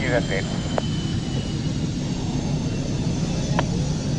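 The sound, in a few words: Finnish Air Force F-18 jet at air display, played recording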